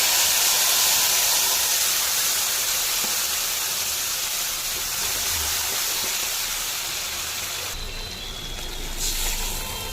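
A loud, continuous hiss and sizzle of spice paste frying in hot oil left over from frying eggplant, steady throughout with slight dips toward the end.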